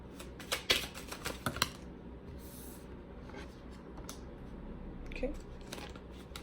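Tarot cards are drawn from a deck in a quiet room: soft papery slides and light flicks come in a short cluster early on, then a few scattered ones later over faint background hiss.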